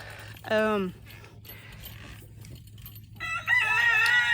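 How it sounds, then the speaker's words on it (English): A rooster crows nearby, with a short cry followed later by a longer, louder crow, over low background hum and faint clucking. "My other roosters are back here."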